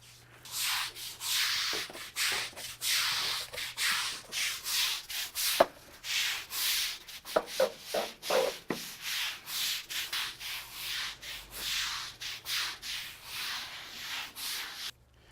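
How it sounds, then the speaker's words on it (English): Stiff bristle push broom scrubbing cleaner into an acrylic overlay surface outdoors, loud close rhythmic swishing strokes repeating steadily back and forth, with no talking. "you want to work it in with a stiff bristle push broom"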